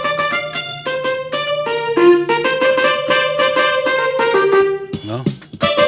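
Casio LK-57 keyboard on its first string tone, a run of bright sustained notes with sharp attacks played melodically, close and loud with no voices.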